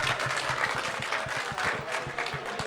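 Crowd at a gamefest's Iron Painter miniature-painting challenge gives a round of applause, a moderate, steady patter of many hands with clear individual claps close by.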